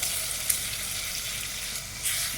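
Chicken liver sizzles steadily in a pan with a Seven Up marinade, a loud continuous hiss and crackle with a couple of brief sharper spikes, no voices.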